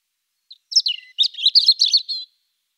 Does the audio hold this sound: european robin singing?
yes